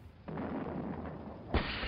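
Two heavy artillery blasts boom in the Soviet campaign of the strategy game Sudden Strike. The first rumbles on for about a second, and the second, sharper report comes soon after.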